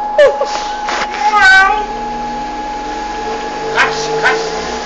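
A man at a bus station imitating a cat, giving several loud, close, drawn-out meows in short bursts against steady background hum.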